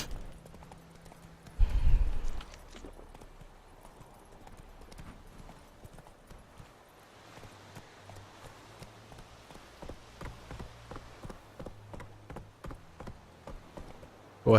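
Hooves of a horse in The Witcher 3 clip-clop at a steady walking rhythm, moderately loud, following a brief thump and some quiet ambience, with no speech over them.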